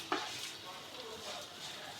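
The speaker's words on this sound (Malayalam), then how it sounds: "ബാസ്മതി അരി നെയ്ക്കാത്താണ് വറുക്കുന്നത്" Basmati rice frying in ghee for prawn biryani, giving a soft, steady sizzle with a brief utensil clink at the start of stirring.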